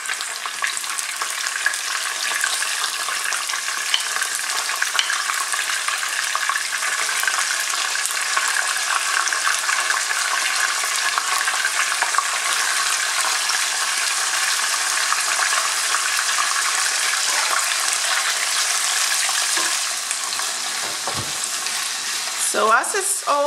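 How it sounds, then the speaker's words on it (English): Meat lightly frying in a pot as the base for an okra stew, a steady dense sizzle holding level throughout, with a few brief stirring clatters near the end. "I just want to lightly fry it"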